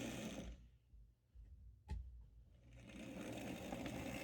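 A model train locomotive motor at a train show starts up and runs with a steady, fairly quiet mechanical whir, building after a brief sharp click, with no talk over it.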